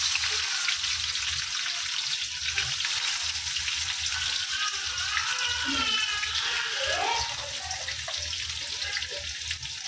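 Onions frying in hot oil with cumin and mustard seeds, a dense, continuous sizzle and crackle heard loud and close for the whole stretch, with no voices.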